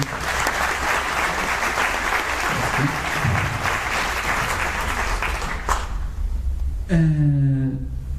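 An audience at an autism congress applauds in a dense, steady burst of many hands clapping that fades out after several seconds, followed by a single voice starting to speak.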